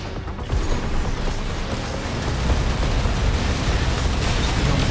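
Machine gun against machine gun in an Armored Core VI: Fires of Rubicon arena battle between mechs, a steady, loud roar of sustained rapid fire and blasts running unbroken for several seconds with no voices.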